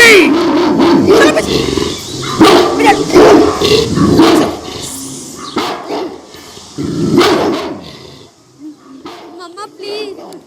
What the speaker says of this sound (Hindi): तेरे कुत्तों को मार लगाओ